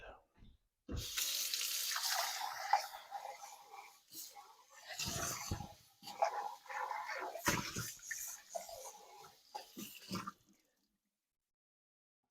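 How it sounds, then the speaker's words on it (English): A kitchen tap runs in several splashing bursts as something is rinsed while a cheese, noodle and ground beef casserole is prepared, with a dog whimpering faintly in the background. "And I'm going to rinse this first."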